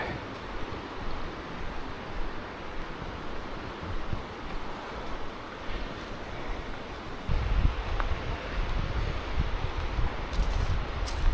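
Small waterfall on a ravine hike, a steady broadband rush of falling water, continuous and moderately close, swelling louder partway through with some wind noise mixed in.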